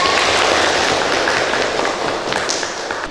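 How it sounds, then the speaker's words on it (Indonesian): Classroom applause from a group of students, a brisk, dense patter of clapping that starts loud and slowly thins toward the end. "Tepuk tangan untuk Saskia."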